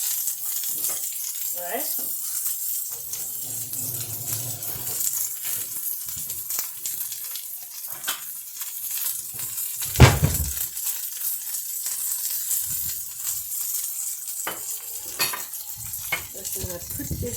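Meat for Korean jun sizzles in a frying pan, a quiet steady hiss with occasional utensil clinks and a pan knock, while a person talks over the cooking.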